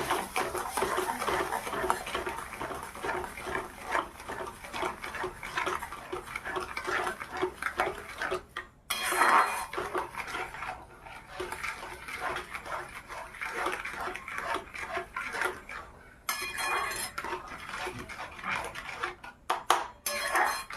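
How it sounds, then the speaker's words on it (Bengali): A mango sandesh mixture with sugar is stirred in a pan, giving a steady run of scraping and clinking of utensil against metal across the whole stretch, close and fairly loud, with no talk. "এইভাবে কিছুক্ষণ আমি নেড়ে চেড়ে নেব"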